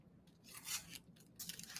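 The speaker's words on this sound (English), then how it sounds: "And then you'll take your detail scissors" Detail scissors snip through crepe paper while a plumeria petal is cut out by hand, giving soft, papery rasping cuts in a few bursts, close and quiet with no talking.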